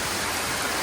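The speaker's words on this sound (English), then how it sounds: "Just a light drizzle." Light drizzle on a tropical island in Thailand, a steady soft hiss of fine rain filling the whole moment with no talk over it.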